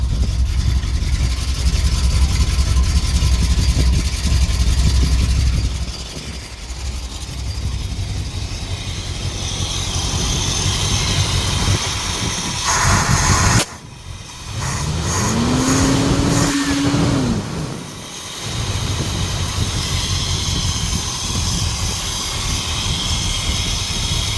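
A 1977 Dodge Adventurer D150 pickup with a 440 big block engine runs on a new carburetor and fuel pump, close by and loud. It idles, then revs up and down repeatedly, briefly drops out midway, and picks back up.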